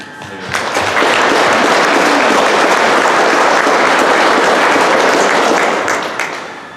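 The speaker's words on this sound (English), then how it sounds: "I want you all to give yourselves a round of applause for doing this." A crowd applauds at a fire station dedication ceremony, dense clapping that swells up quickly, holds loud and steady for several seconds, then tapers off near the end, with no speech over it.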